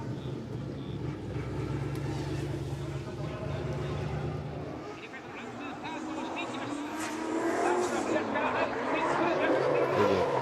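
A drift car engine runs at Suzuka Twin Circuit during a drifting competition and seems not to be pulling enough power. A low rumble gives way to louder revving and tire noise from the track, with people talking over it.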